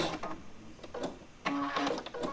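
A sewing machine chain pieces quilt block pieces in short, faint whirring runs of stitching separated by brief pauses, close and quiet with no talking.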